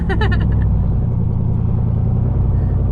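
Pickup truck driven past, a loud low engine rumble that stays steady and close throughout, with no voices.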